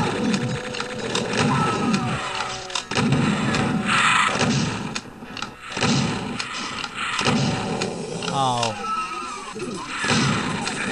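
Chaingun zombies firing in Doom 2, rapid mechanical bursts of gunfire rattling in clusters among other game effects, loud and close, with a player talking over the action.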